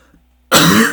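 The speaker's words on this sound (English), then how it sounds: "Sorry for the coughing." A single sharp, loud throat-clearing cough bursts out close to the mic after a near-silent half second, lasting to the end.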